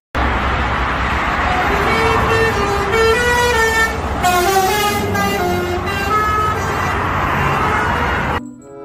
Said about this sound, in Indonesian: Kali ini ada bus Setia Negara